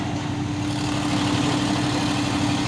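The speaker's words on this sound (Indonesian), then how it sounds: "Dan ini juga ada truk trailer Isoteng ini ya." A large trailer truck diesel engine idles steadily nearby, a low constant rumble with no other sounds.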